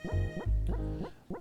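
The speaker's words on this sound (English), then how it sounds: "One of my shoes squeaks when I walk, so I sound like this." A squeaky shoe, worn while walking, gives four short rising squeaks in an even step rhythm, close and fairly loud, with a low thump under each step.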